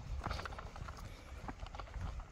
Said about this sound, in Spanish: Aquí está un burro.